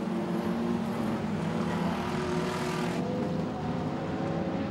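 Race cars roar past on a raceway during an A-Main event, a loud sustained engine drone with overlapping motors that swells and then eases as the pack moves by.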